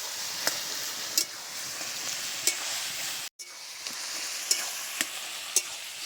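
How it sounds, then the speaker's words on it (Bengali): Spinach cooks in a pan over a soft, continuous sizzle while a spoon scrapes and taps the pan at regular intervals. The sound drops out briefly midway, then the close stirring and frying carry on. "শাকটা আমি এভাবে নেড়ে চেড়ে রান্না করে নেব।"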